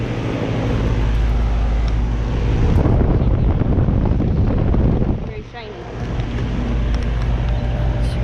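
A Goodman heat pump outdoor unit at an apartment complex runs steadily nearby, a broad continuous fan and compressor roar with low hum, dipping briefly partway through.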